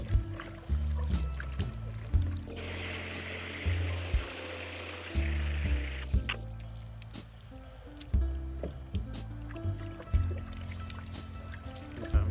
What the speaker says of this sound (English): And last I'll wash these radishes.